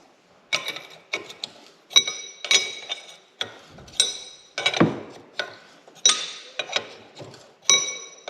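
A bolt being loosened by hand on a 260 backhoe, heard as a series of crisp metallic ratcheting clicks and clinks in regular bursts, close and fairly loud against quiet surroundings.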